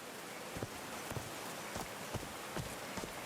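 Rain falls in the video game Call of the Sea, a steady soft hiss of drops with light periodic taps and patters, fairly quiet and with no talk.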